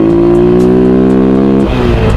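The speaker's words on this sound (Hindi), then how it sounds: "चलो जल्दी से अभी इनको पहले ओवरटेक करते हैं।" A vehicle engine revving hard as it accelerates to overtake on a mountain road near Shimla, loud and close with a steady rising hum that shifts pitch partway through.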